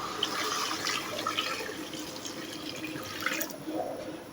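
Water poured into a pot of beef paya trotters, a faint steady splashing trickle with a few small drips, heard alone.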